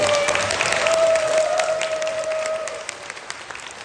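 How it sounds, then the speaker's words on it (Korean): A temple congregation applauds after a Buddhist Dharma sermon at Beopryunsa, a full burst of clapping from a crowd in a hall that is loudest at first and then thins out, with no one speaking. "오늘 법문을 해주신 용화 큰스님께 다시 한번 큰 박수 부탁드립니다."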